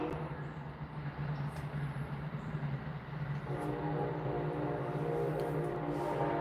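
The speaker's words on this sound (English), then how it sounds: "Train going by." A train rolls past outside a porch on a bright afternoon, a steady broadband rumble with low hum that grows slightly fuller partway through, continuous and moderately distant, with no talking.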